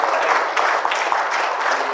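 A church congregation claps together in praise to the Lord, a dense, loud burst of applause filling the whole short stretch with no voices standing out.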